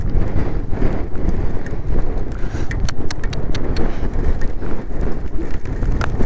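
Strong gusting wind roars steadily and loudly around a motorcycle riding on a mountain route from Hatu Peak toward Kinnaur, buffeting the microphone with dense broadband rumble and occasional rattles, with no talk.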